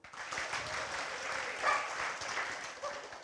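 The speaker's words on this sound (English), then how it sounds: "Can I get a little clap?" An audience at an opera house gives a short burst of light clapping, moderately loud and lasting a few seconds with no talk over it.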